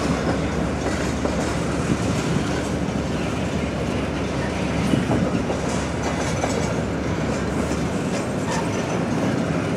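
A CSX freight train led by locomotive 9005 rolls past on a light Saturday, with a loud, continuous roar of wheels and steady clickety-clack from railcars on the track, close by throughout.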